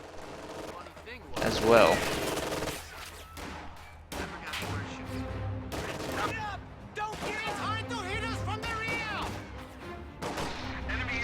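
Rifle fire in a tactical video game battle: scattered gunshots and a louder crack early on, with talk running over the shooting throughout.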